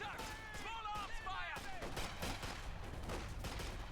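A US machine gun fires in a Company of Heroes-style strategy match between tank and infantry squads, sounding as rapid bursts of gunfire with explosions and whistling effects, under a commentator's voice.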